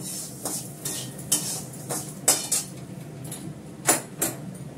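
Mung dal being stirred in a cooking pot, heard as scattered metallic scrapes and clinks of a spoon against the pot, irregular and fairly quiet, spaced a fraction of a second to a second apart.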